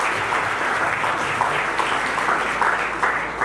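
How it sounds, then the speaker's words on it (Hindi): Loud applause for guests and faculty seated on stage at a school event, brisk continuous clapping from a sizeable audience, close and steady for a few seconds. "इन सबके लिए एक बार जोरदार तालियां"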